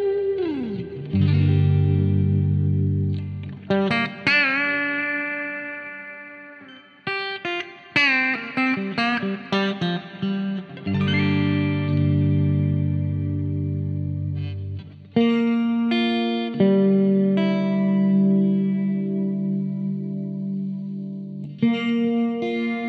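An electric guitar runs through effects with distortion and chorus. It plays sustained chords and bending notes loudly and up close, with short pauses between phrases and no talking.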